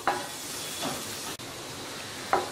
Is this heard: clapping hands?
no